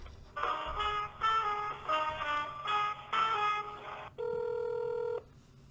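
Telephone ringback heard while a call to a city office in Gadsden, Alabama is being transferred: a series of close, clear electronic ring bursts broken by short pauses, then one steady tone, with no talking over it.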